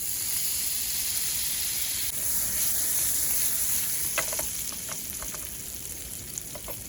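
Prawns fry in butter in a pan, a close, steady sizzle and hiss with a few light stirring clicks partway through and no talking.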